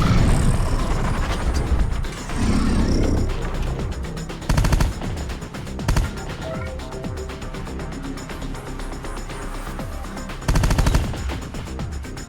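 Gunfire from Terminator: Dark Fate - Defiance, a dense stream of sharp mechanical shots and clattering impacts over a low rumbling battle bed, with several louder bursts standing out.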